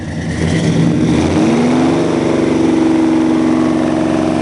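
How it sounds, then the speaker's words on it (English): Chevelle Malibu SS V8 engine running after a cold start, a steady loud idle that swells into a rising rev partway through and holds high, heard up close with no talking. "crank her up"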